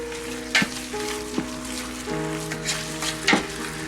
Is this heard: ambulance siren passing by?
no